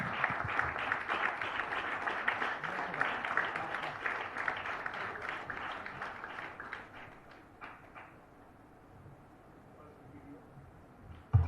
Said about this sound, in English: please give her a big,